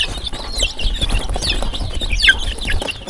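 Chickens clucking and calling close by, a busy scatter of short squawks and chirps over low rustling background noise.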